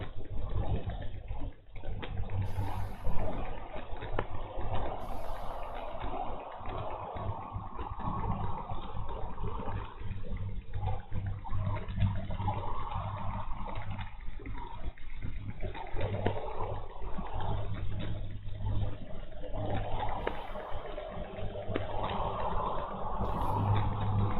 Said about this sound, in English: Sounds like it might have been a truck.